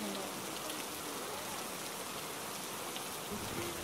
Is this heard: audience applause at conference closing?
no